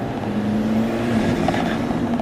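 An Alfa Romeo 4C turbo engine pulls hard under acceleration above 2,500 RPM, giving a loud continuous growl with a slowly rising tone from inside the car.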